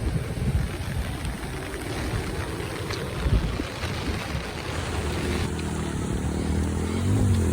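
Heavy rain in a village pouring steadily, a dense broadband wash with gusty rumble and wind buffeting the microphone, loud and continuous with no talking.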